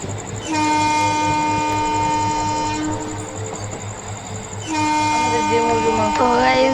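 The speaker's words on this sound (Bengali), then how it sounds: "এবার রিভার্সে একটা হর্ন বাজিয়ে দিলাম।" A train horn blares in a train simulator game, two long sustained harmonic blasts, the first from about half a second to three seconds and the second from nearly five seconds onward, loud over steady engine rumble, with a voice talking through the clip.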